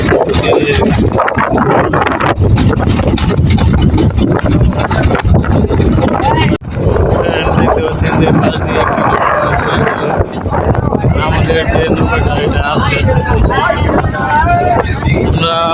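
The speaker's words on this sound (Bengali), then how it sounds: "আমাদের নৌকাটা আস্তে আস্তে যাচ্ছে" A boat moves slowly along a branch channel of the Jamuna river beside a char sandbank, its steady engine drone and wind noise running throughout under continuous talk.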